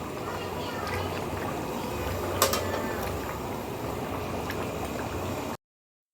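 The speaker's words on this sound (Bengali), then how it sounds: "আমি এখন চিকেন রান্না করতেছি" Chicken simmers in a pot at an outdoor family picnic, a steady close bubbling and gurgling with one brief sharp clink midway.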